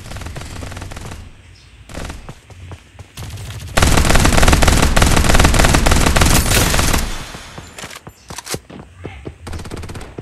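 Rapid machine gun fire in the mobile shooter Farlight 84 comes in short bursts, then one long, loud sustained volley, then scattered shots, all close and dominant.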